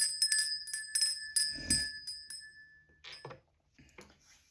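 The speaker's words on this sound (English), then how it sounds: "we're going to begin by cleansing the space and ringing the bell." A small bell rings several times in quick bright strikes, each leaving a sustained shimmering tone, followed by softer clinks and taps.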